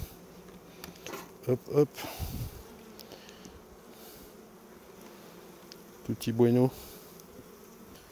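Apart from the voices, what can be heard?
honeybees buzzing at beehives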